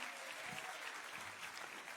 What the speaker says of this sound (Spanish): Un fuerte aplauso ahí, un fuerte aplauso